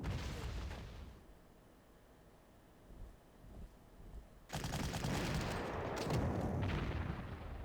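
Artillery fire in the World War II strategy game Panzer Corps: a burst of booming blasts opens, then a quiet lull with a few small thuds, before a loud, sustained barrage of rumbling explosions.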